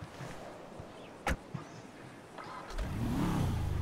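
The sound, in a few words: car engine accelerating in GTA video game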